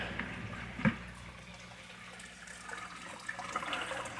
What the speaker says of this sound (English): Put my air bubbles back in.